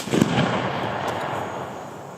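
A ceremonial rifle volley fired by an honor guard at a grave marking ceremony: one loud, sharp outdoor crack of several rifles together, followed by a long rolling echo that fades away.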